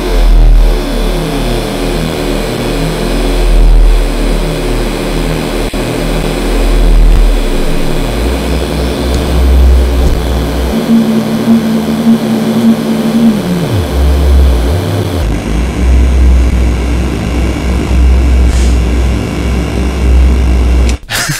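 Synthmaster synthesizer note played in Bitwig while overloading the DSP, a loud, rough, sustained droning tone with crackling, glitchy roughness and a brief gliding pitch partway through before stuttering and resuming.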